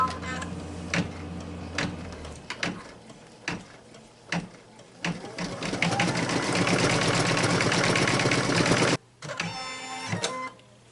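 An embroidery machine stitches with rapid close ticking that builds into a dense, steady mechanical chatter, cuts out briefly, then resumes with quicker clicking.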